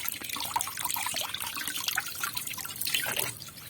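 Pumpkin flowers are rinsed by hand in water, giving a close, continuous sloshing and dripping with small irregular splashes throughout.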